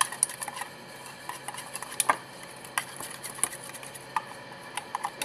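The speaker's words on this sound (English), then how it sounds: "a half a tablespoon of your rice flour, and then just mix it everything well" Rice flour face mask is mixed in a small bowl, with light, sparse clicks and taps of a utensil against the bowl over quiet background, close by and without talk.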